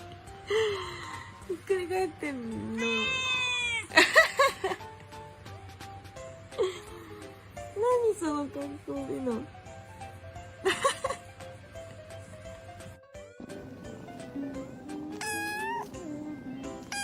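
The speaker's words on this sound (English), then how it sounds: "This is a purebred cat. And this is an inbred cat." Young cats meow repeatedly in high, wavering cries, some drawn out and some short, heard up close with a faint steady hum underneath.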